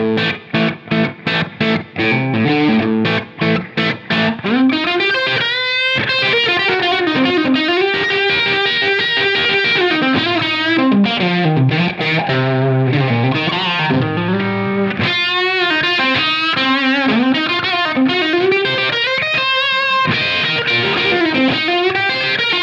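Heavily distorted electric guitar through a humbucker pickup with the volume all the way up plays loud and up close, opening with choppy chugging chords, then sustained riffs and bends.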